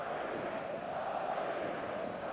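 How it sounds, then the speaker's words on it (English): A football match-day stadium crowd roars steadily in a dense, continuous wash of many voices, loud and unbroken throughout. "The noise is just about reaching a crescendo here as these two sides get ready to lock horns."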